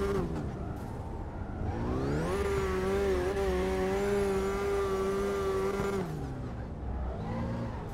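Mazda MX-5 engine in the CarX Drift Racing video game revving steadily and loudly, pitch climbing then holding at a high sustained drone before dropping off, with a brief lower rev at the end.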